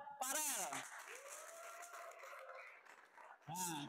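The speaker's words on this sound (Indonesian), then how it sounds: "Tepuk tangan buat Farel." Students in a school physical education lesson on gymnastics applaud a classmate, their quiet scattered clapping mixed with excited voices and calls that rise and fall throughout.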